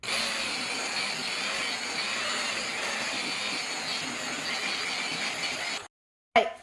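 A polisher spins at 1900 RPM on a Mazda CX-7 headlight during restoration, a steady whirring whine running evenly for about six seconds before cutting off briefly and restarting.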